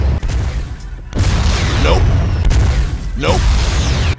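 Video game rocket explosions, several loud booms and bursts in quick succession amid heavy gunfire, with a player talking over the action.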